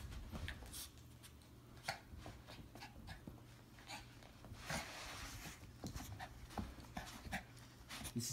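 A dog pants rapidly and steadily up close, with brisk scuffling and shuffling noises throughout and a few sharp clicks, heard on its own without speech.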